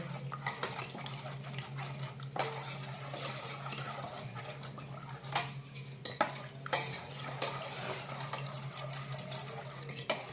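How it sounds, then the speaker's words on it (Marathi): Cornflour being stirred into a mixture for kharvas to break up lumps, a steady close scraping and swirling of a spoon in a pot with occasional clinks against the side, continuous throughout with no talking. "कॉर्नफ्लॉवर टाकून असं ढवळून घ्यायचं व्यवस्थित घोटाळे मोडून घेऊ सगळे"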